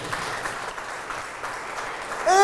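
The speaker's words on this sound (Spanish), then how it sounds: "un aplauso a ese cantante" Church congregation applauding a singer during a Spanish-language sermon, steady dense clapping at moderate distance that continues throughout.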